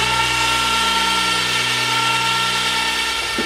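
A power tool whines steadily and loudly while working the muffler off a mower engine during an engine swap, its tone holding nearly constant before a short rattle at the end.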